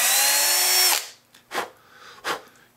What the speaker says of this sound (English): All I need now is my 4mm drill bit.